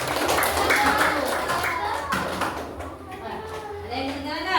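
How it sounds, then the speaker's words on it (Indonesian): Schoolchildren in an elementary classroom clap together in a quick, lively patter, with children's voices chattering over and around the clapping throughout. "Tepuk tangan dulu."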